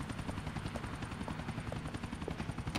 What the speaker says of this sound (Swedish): jag har en helikopter jag kan använda ifall jag vill